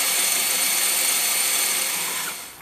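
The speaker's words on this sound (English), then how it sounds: "you gotta drill out the rivets" A power drill boring out the rivets holding a power window motor in a Pontiac Sunfire, a steady, loud high-pitched whine held without a break, then tapering off at the end.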